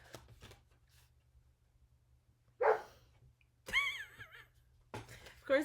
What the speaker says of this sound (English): Of course I get a bark in the background.